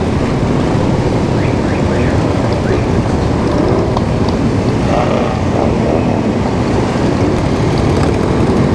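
A large pack of cafe racer motorcycles rides off together during the Distinguished Gentlemen's Ride in Frankfurt, a dense, continuous rumble of many engines close by, loud and steady throughout.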